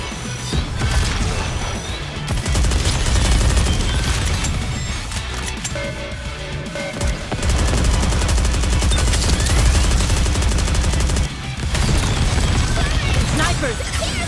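Gunfire in Goddess of Victory NIKKE, sustained loud automatic bursts and heavy impacts, with a short gap, mixed with game voices and music.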